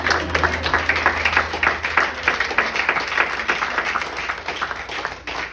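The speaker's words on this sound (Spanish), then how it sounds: "Dar un aplauso a Jesús." Rhythmic clapping from a church congregation in Dayton, Tennessee, applauding Jesus during a sermon, many hands beating in a loose pulsing rhythm that continues steadily for several seconds.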